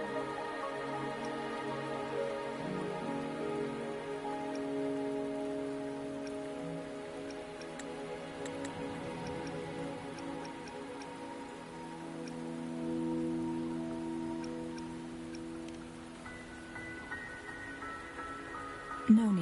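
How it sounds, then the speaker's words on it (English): Rain falls in the video game Wuthering Waves, a soft, even patter that runs for about twenty seconds beneath sustained background music. "Are you trapped here by the rain?"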